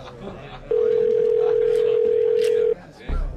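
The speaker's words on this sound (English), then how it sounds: "After two rings, someone answered." Telephone ringing played as a sound effect in a horror story narration: a single long, steady electronic ring tone lasting about two seconds, loud and clear, with a voice speaking briefly before and after it.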